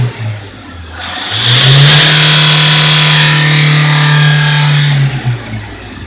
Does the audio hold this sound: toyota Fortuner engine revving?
yes